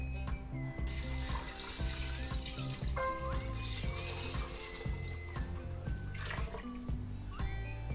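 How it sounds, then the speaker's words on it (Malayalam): Water pours steadily into a cooking pot for lamb head soup, a continuous close splashing stream that runs throughout, with faint tonal kitchen sounds mixed in and no talk. "ഇനി നമുക്ക് ഒരു 10 ഗ്ലാസ് വെള്ളമെങ്കിലും ഒഴിക്കണം"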